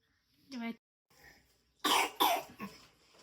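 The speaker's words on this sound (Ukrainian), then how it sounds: "І зараз ще почався кашель." Two harsh coughs in quick succession, close and loud, after a brief child's vocal sound and a faint breath.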